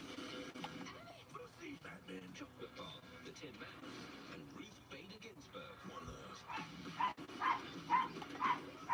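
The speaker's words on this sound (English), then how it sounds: "just some dogs barking, so don't get worried." Several dogs bark and yip in the background of a live NFL playoff broadcast, with short sharp barks growing more distinct near the end under ongoing talk and game audio.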